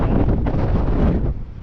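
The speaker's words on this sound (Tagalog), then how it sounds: "Ang lakas po ng hangin." Strong wind roars across the microphone at an open-water fishing spot, a loud, close, continuous rumbling buffet with no voices.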